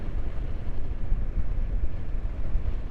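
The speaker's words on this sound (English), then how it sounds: "wind coming through the air." Steady, close wind buffeting a microphone while riding a motorbike down a road, a continuous low, rough roar with no other sounds.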